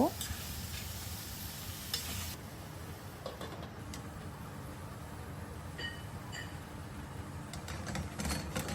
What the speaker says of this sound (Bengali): পটল আর আলুটা ভালো মতো কষিয়ে নিব।